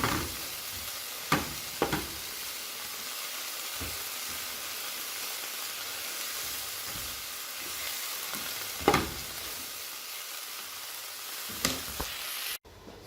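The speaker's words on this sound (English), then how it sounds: "now we're gonna saute the broccoli and the chard" Broccoli and chard sauteing in a pan, a steady soft sizzle with occasional sharper clinks and stirring scrapes, no talking.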